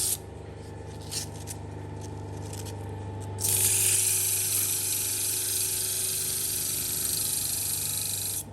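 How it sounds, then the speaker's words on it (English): A lathe shaft end is polished with 240 grit emery cloth. A steady motor hum runs throughout, joined midway by a loud continuous abrasive hiss. "This is a bit of 240 grit to just polish the end of that shaft."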